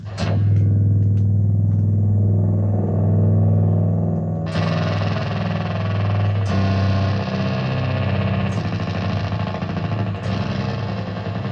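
A heavily distorted, buzzing synth drone from an Electro-Harmonix SYNTH9 synthesizer pedal with a deep low hum, shifting tone a few times as effects change, loud and with no voices.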